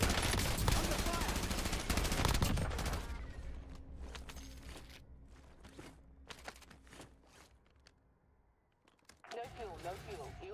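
Automatic gunfire rattles loudly in a Black Ops video game, dense bursts in the first seconds giving way to scattered shots and footsteps, with a voice talking over the action.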